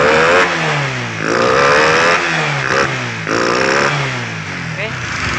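A Honda CB150R motorcycle fitted with a Versa injector revs close up, its engine rising and falling through repeated throttle blips over an idle, with someone talking over it.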